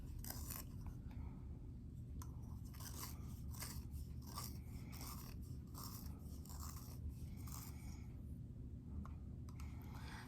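Steady scratchy shaving of a Prisma colored pencil being sharpened by hand, continuous with rhythmic bursts, close and fairly quiet.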